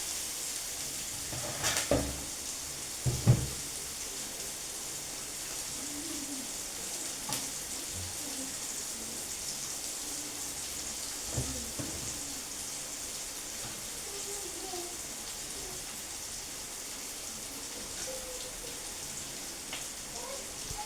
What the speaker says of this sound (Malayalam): തക്കാളിയും കൂടി ഇട്ട് കൊടുത്തിട്ട് ഒന്ന് വഴറ്റി എടുക്കുന്നുണ്ട്